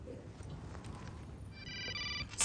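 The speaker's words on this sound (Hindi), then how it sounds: "सिया का फोन है" A telephone ring sounds in a domestic scene from a Hindi TV drama, a brief electronic ringtone with steady tonal bursts rising near the end over quiet background.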